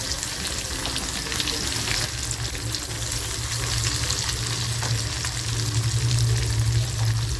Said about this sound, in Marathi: त्याच तेलामध्ये पहिली लसूण टाकते मिरची टाकते